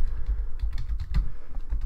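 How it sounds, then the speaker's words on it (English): Fingers type login credentials on a computer keyboard, producing a quick, close run of soft clicking keystrokes with no talking. "We're going to type in our credentials."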